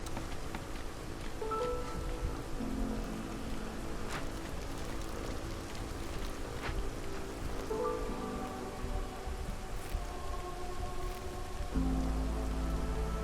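Steady drizzling rain in the video game Against the Storm, a continuous soft patter with occasional drops, layered over faint tonal game music throughout.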